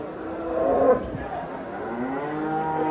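A Simmental cow at a livestock market in Bostonliq district lets out one drawn-out, close, low moo that fades into a softer tail, with faint market background behind it.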